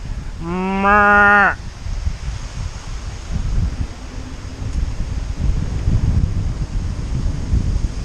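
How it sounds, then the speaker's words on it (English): A single cow moos once, loud and clear, followed by gusty wind noise and rustling outdoors in Switzerland's Lauterbrunnen Valley. "There's some cows."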